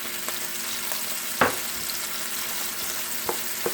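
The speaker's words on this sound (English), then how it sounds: "I'm just going to add my onions over here on the side." Onions sizzle steadily in a pan beside browning chicken, sausage and shrimp, a close, even frying hiss broken by a few sharp clicks of a utensil against the pan.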